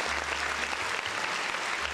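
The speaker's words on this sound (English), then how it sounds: "Round of applause." A short burst of audience applause, continuous many-handed clapping at moderate level over a low background rumble.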